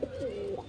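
A single drawn-out coo from a Punjabi Madrasi pigeon in a loft, close and steady for most of a second with a slight lift at the end.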